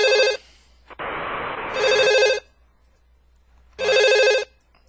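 A telephone rings in two long bursts with a gap between them, loud and close, over a steady low hum, with a brief noisy stretch in the middle.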